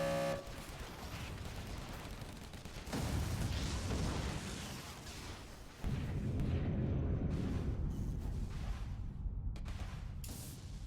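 Tanks attack in a real-time strategy game, giving a steady wash of overlapping explosions and artillery-like booms, with louder surges at about three and six seconds and no voices.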